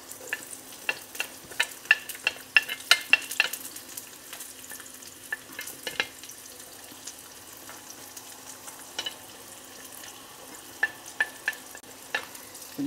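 Onions sautéing in hot oil for beef kaldereta, a steady soft sizzle with scattered crackles and pops, close and fairly quiet, no talk.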